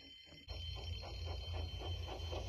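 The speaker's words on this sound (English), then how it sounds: "Soon came the alarm." A cartoon alarm bell rings at a railway engine shed, starting abruptly after a brief quiet moment and then clanging in a fast, steady, loud pulse to the end.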